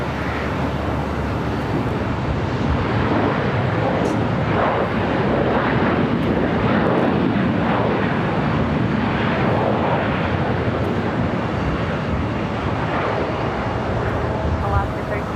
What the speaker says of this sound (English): runway 25 right, clear for takeoff at 2047